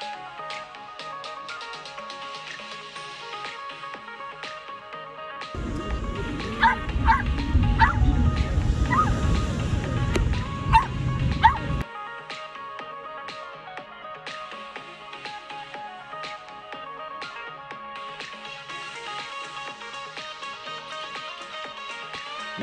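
Dogs at a dog beach in Long Beach, California give a short burst of yipping barks and whimpers over steady background music, lasting several seconds in the middle, with little talk.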